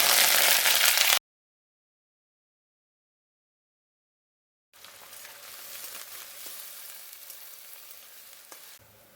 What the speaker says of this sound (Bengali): তেলটা গরম হয়ে গেছে, এরপরে দিয়ে দেবো পেঁয়াজ